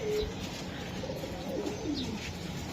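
Club racing pigeons coo repeatedly in soft, throaty phrases, with the bubbling calls rising and falling close by over a steady background hum.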